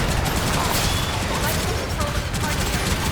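Heavy cannon fire in a Gundam video game, a dense, continuous barrage of booming blasts and rattling shots filling the whole stretch at close, loud level.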